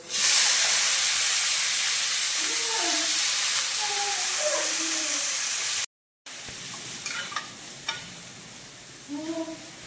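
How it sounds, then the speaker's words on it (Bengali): Cut, washed potato pieces hit hot oil with panch phoron, setting off a loud, bright hissing sizzle that fades gradually, breaks off briefly, then returns softer with scraping stir sounds and a few spoken words. "এবার দিয়ে দিলাম কেটে ধুয়ে রাখা আলুর টুকরোগুলো"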